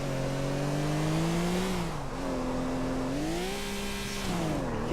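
A car driven at speed in GTA IV, toward a Cavalcade SUV: a loud, continuous engine drone rising and falling as the revs shift, with no clear impact audible.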